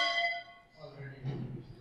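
A bell rings with a clear, ringing metallic tone that decays over about a second, followed by a lower murmur of voices.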